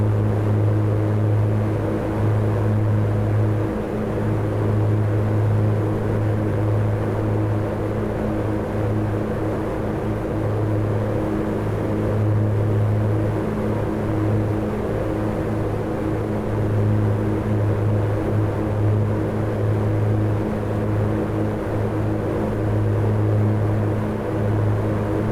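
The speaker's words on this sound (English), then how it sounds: "Guess what I could do actually is just get rid of some of that engine noise." A Piper PA-60 aircraft engine drones in Microsoft Flight Simulator 2024, a steady loud propeller hum with a strong low tone that holds unbroken for the full length, no voices over it.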